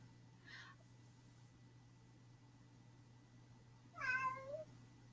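A cat meows twice, a short faint meow early and a louder, drawn-out rising-falling meow near the end, over a quiet steady hum.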